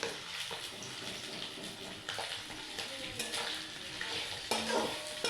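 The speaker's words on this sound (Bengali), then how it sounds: "এই যে আমার আলুগুলো ভাজা হয়ে গেছে" Fried potatoes with bay leaf and five-spice seeds are stirred in a wok, giving a continuous sizzle broken by scraping strokes and soft clinks of the spoon against the metal.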